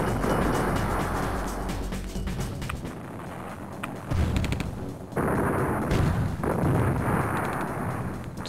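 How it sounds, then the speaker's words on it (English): Artillery firing in the WWII strategy game Counter Action: repeated loud booms and blasts over a constant battle roar, with sharp cracks and brief lulls between the bursts. "I'm getting in with the artillery now because I've hotkeyed it"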